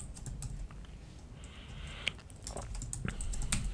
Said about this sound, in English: So I will just hit T and type cancel